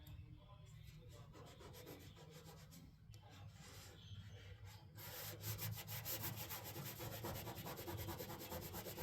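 Steady dry rubbing and scraping as a vinyl stripe decal is pressed down onto a car body in a garage, a close continuous friction noise that grows louder and more rhythmic toward the end.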